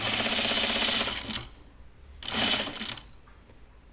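A sewing machine stitches a shirtdress in two fast, steady bursts of needle chatter, each about a second long with short pauses between, close and fairly loud with no talking.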